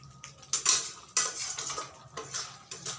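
A cooking pot of dried fish curry with potatoes is lifted off the stove, giving a few sharp metallic clanks and scrapes of pot and utensil, close and fairly loud, with no one speaking.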